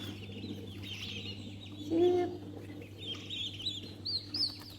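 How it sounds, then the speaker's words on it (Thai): Two-week-old turkey chicks on a farm in Saraburi give soft peeps and chirps, with one louder call near the middle, over a low steady hum and quiet background. "นี่เป็นลูกไก่ที่ฟักออกมาจากฟาร์มแล้วนะครับ"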